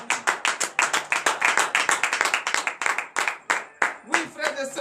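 Rhythmic hand clapping from a worshipping congregation at a morning prayer service in Benin, steady and close, with shouted acclamations to God mixed in.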